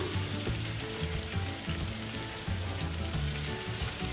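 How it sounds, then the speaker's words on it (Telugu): Green chillies and chopped onions fry in hot oil for a beans gravy curry, giving a steady, close, crackling sizzle that never lets up, with no talking. "ఆ తర్వాత పచ్చిమిర్చి వేసుకొని ఫ్రై చేసుకుందాం ఆ తర్వాత ఉల్లిపాయలు కూడా ఒక పెద్ద ఉల్లిపాయలని కట్ చేసి కింద కూడా వేసుకొని ఫ్రై చేసుకున్నాము"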